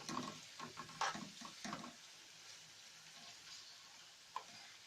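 Chopped kidneys drop into a pan of softened onions and fry, a soft sizzle with a few stirring clatters early on, fading to a quiet steady hiss.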